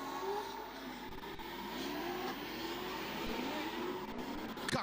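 Race car engine revving hard during a drift competition at DriftStars 2026 round 1, a loud, continuous high-revving drone with rising and falling pitch and faint tire noise, heard alone.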